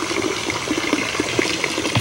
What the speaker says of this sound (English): My reservoir is quite small, it splashes.